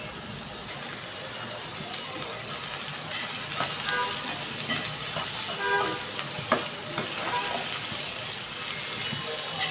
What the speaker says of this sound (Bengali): এবার কাঁকরোলটা দিয়ে দেব। হলুদ লবণ ছিটিয়ে হালকা ভেজে নেব।